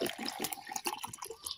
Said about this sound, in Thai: แล้วก็เทน้ำลงไปครับ